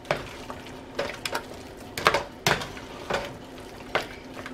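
Relish being mixed into potato salad in a bowl, with irregular scraping and knocking of a utensil against the bowl, several sharper clacks, close and moderately loud with no speech.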